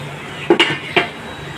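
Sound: pan being covered with a lid while cooking potol dorma

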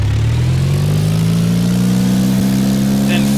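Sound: video game flight simulator light aircraft engine at full power

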